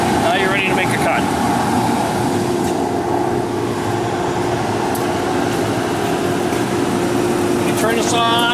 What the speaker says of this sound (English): then you turn your dust collection machine on